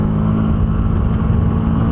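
A van engine with the air box baffle removed runs close and loud, giving a throaty, steady drone that holds level throughout without a clear rise in revs.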